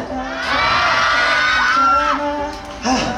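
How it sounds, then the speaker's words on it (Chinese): A street audience at a unicycle stunt show cheers and shouts, children's high voices standing out, in a sustained, lively roar with a brief surge near the end. "我希望你们拿出你们的掌声、尖叫声"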